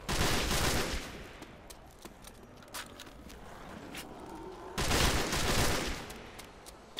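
Gunfire from an M14 and a mini Uzi in the video game World at War: loud bursts of rapid shots open and close, with scattered single cracks and short volleys in between.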